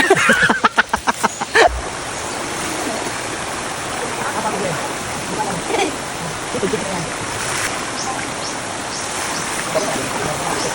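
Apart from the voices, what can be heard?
flowing river water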